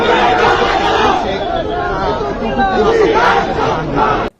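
BNP activists chanting slogans in a loud crowd at the Shaheed Minar at night, many voices shouting together in rhythmic bursts over a dense hubbub of chatter, close and sustained before cutting off abruptly.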